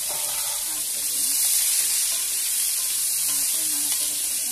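Cut potatoes fry in oil seasoned with whole spices, giving a continuous close sizzle with soft scraping of stirring and a quiet voice in the background.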